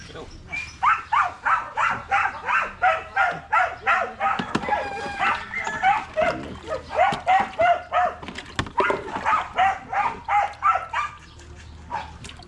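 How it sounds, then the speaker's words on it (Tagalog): Several dogs bark rapidly and insistently, a near-continuous string of sharp yaps with a brief lull midway before the barking resumes. "Nako, nag-iingay naman ng mga aso."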